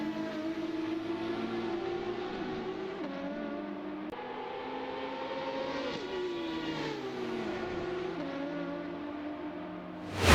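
A Ferrari race car screams around the Imola circuit, its engine note rising through the revs and dropping sharply at gear changes. The sound is loud and continuous, with no talking.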